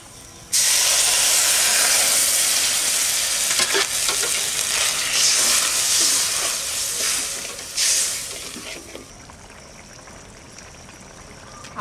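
Water poured into a hot pan of banana flower cooked with salt and turmeric, an abrupt loud burst of hissing steam and sizzle that rages for several seconds, then subsides into a quieter bubbling simmer.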